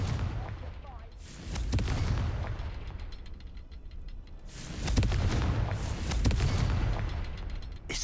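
A fire-blast spell cast in a Hogwarts video game, with booming explosive bursts near the start and again around the middle, loud and close over game ambience.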